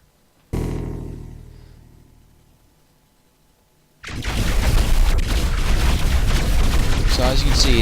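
In the robot-building game Rawbots, a cannon fires a single loud boom that decays slowly, then a dense, sustained roar of blasting and crashing debris as a robot is shot to rubble.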